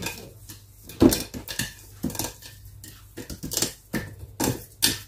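Seasoned chicken with white pepper tossed in a bowl, giving a run of uneven clinks, taps and wet knocks of utensil against dish, close and fairly loud.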